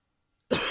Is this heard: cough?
yes